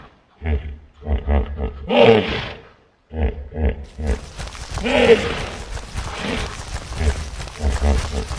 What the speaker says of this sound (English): hippopotamus,